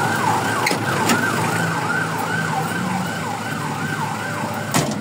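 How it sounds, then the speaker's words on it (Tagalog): Wailing emergency sirens cycle steadily up and down over a constant road rumble, loud and continuous throughout. "Dami wangwang."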